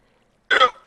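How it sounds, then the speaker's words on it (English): A single short, abrupt hiccup from a man, a close, loud, rough vocal burst lasting about a quarter second after silence. "That was a hiccup that I had no control or awareness of"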